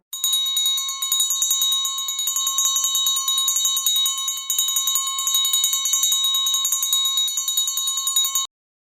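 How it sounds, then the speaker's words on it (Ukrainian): A hand bell is rung as the first bell of the school year at a lyceum's Day of Knowledge ceremony, a loud, bright, continuous rapid ringing lasting about eight seconds with no voices. "Право подати перший дзвінок."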